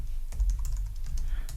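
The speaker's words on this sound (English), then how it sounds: "I'm typing here" Keystrokes on a computer keyboard tap out a quick, irregular run of soft clicks close by, with no voice over them, while someone sets up a new Windows PC profile.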